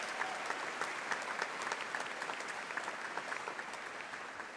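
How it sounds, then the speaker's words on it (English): A graduation ceremony crowd at Hastings High School in 2019 claps steadily for a graduate, a dense, even wash of applause that holds at a constant level from start to finish. "Let's have another round of applause for Allison Amy."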